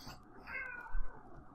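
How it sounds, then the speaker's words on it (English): A cat gives a single short meow close to a microphone during a home podcast recording, with faint room noise around it. "The cat agrees."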